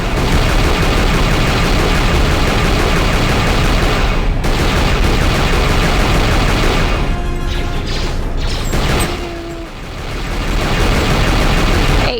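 Dense, continuous blaster fire and mechanical clatter fill a Knights of the Old Republic II battle, loud and unbroken for most of the stretch before briefly thinning near the end.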